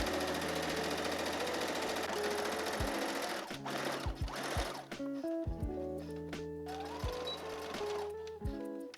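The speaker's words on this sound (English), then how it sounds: "And then from there, I'm just going to sew straight down." A sewing machine stitches a straight seam down a pair of handmade overalls, a steady close whir that briefly stops and restarts a few times with no talking.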